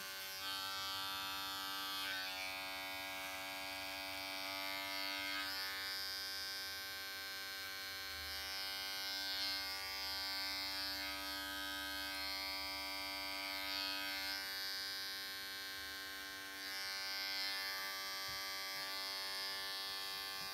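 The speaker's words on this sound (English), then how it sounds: "we'll take that attachment off and then do the fine work, clipper over comb" Electric beard clipper trimming a beard over a comb, a continuous close buzzing hum with a steady pitch that shifts slightly as the blades move through hair, holding at an even level throughout.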